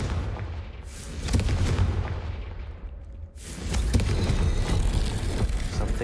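A Confringo spell bursts in Hogwarts Legacy with a loud, booming explosion and a crackling blast tail. A second heavy burst follows after a brief dip.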